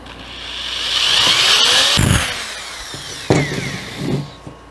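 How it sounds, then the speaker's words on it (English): A power drill mixes clear epoxy for a dirty pour over a glass table, its motor whining steadily and loudly, then stopping and restarting in short bursts with clatter from the container. "Now you want to mix it again with your drill for about 20,"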